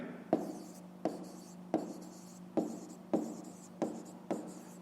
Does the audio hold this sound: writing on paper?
yes